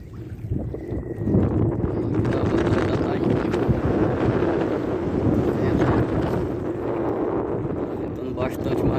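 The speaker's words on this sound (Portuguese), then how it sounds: "Tá ventando bastante" Strong wind sweeps across open water during net fishing by boat, a steady loud roar and microphone buffeting that fills the whole stretch without letup.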